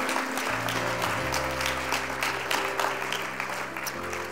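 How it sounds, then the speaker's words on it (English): A church congregation at a Sunday morning service claps in praise, a loose ragged spread of hands over steady tones from an instrument, with occasional sharper claps standing out. "Let's give the Lord a hand clap of praise all over this house."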